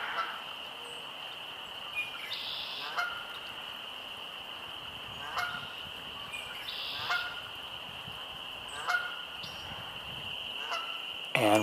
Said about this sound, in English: And we have a Canada goose here.